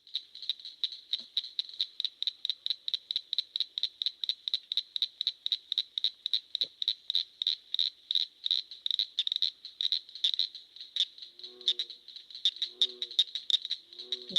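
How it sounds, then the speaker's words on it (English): A plains leopard frog call recorded in the field: a long rapid series of sharp clicks that speeds up in the middle and slows toward the end, with a few lower croaks joining near the close. "we heard their call earlier with the plains leopard frog"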